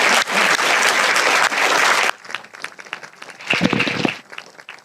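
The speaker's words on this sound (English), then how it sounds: "Can you give a big round of applause to Martin, Jan, Craig and Mariella?" Audience applause at a distinguished address event, a dense wash of clapping for about two seconds that cuts off abruptly, followed by quieter scattered sounds and a brief swell of noise.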